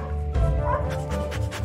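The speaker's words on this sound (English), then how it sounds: "wagging its long tail, barking, and sticking its tongue out" A dog barks and yips in short bursts, close and fairly loud, with whimpering and panting sounds between the barks.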